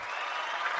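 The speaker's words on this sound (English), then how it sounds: "Let me give you some applause and reiterate that" Brief burst of hand clapping, a short steady patter of applause at moderate level with no talk over it.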